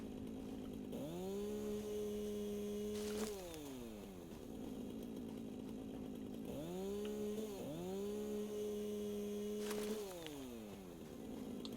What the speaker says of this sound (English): And we got ourselves a chainsaw.